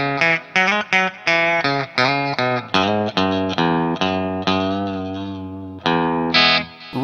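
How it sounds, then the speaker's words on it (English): Electric guitar with its humbucker pickup in split mode, played as a run of bright, snappy picked notes and chords through effects, with a steady rhythm, up close and alone, ending on a couple of sustained notes. "listen to the split on our humbucker side,"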